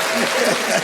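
Brief applause on a podcast set, a short burst of clapping that runs steadily through its length with a voice talking faintly over it.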